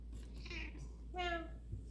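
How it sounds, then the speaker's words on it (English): A house cat meows, a drawn-out tonal call rising then fading, indoors while the household waits out an approaching blizzard; faint room noise surrounds it, with a brief breathy human sound before. "And who is meowing over here?"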